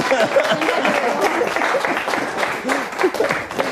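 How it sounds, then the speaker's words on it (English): Crowd applause following a coin magic trick, a continuous loud patter of many hands clapping with voices and cheers rising over it. "Let's give Alyssa a big round of applause."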